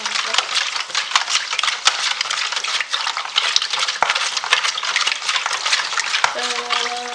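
A spoon stirs a bourek filling mixture in a bowl with steady, continuous scraping and clinking, close and fairly loud, with a brief tonal sound near the end.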